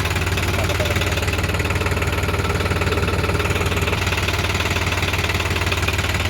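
Diesel engine of a New Holland 3600-2 tractor running steadily with the PTO economy gear engaged, a loud, even, close idle with a constant low knocking throb and no talk.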